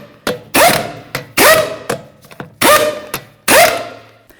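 Four loud, close mechanical bursts, evenly spaced and separated by short pauses, as an impact or ratchet tool spins the 22mm lug nuts down onto a 2013-2015 Chevy Malibu rear wheel. A few quieter clicks fall between the bursts.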